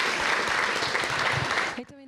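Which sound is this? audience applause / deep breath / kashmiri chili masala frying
audience applause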